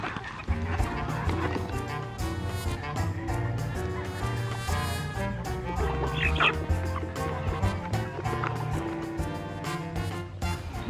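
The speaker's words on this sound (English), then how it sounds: "We have the Rhode Island Red and we have the Sussex Chicken." Rhode Island Red and Sussex chickens in a large flock, heard as dense, loud overlapping clucking and squawking calls running continuously throughout.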